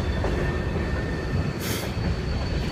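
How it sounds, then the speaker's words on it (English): A train rumbles somewhere in the distance behind steady wind noise, a continuous low roar with a brief brighter screech partway through, no voices. "There's a train somewhere back there."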